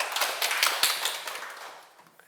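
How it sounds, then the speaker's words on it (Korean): An audience at a Buddhist teaching talk gives a short round of applause, moderately close clapping that fades away over about two seconds. "너무 좋은 질문인데 박수 한번 부탁드립니다."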